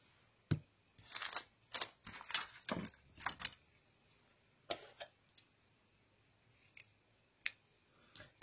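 Scissors snip through a piece of lace for a coffee-filter craft: about eight crisp, close, quiet cuts in an irregular rhythm, separated by brief pauses in an otherwise hushed room.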